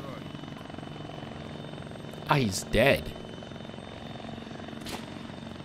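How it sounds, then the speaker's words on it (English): Military helicopters in the video game Arma 3 give a steady rotor drone throughout, with a player speaking briefly over it and a short burst of other game sound near the middle. "they're loading up in the choppers"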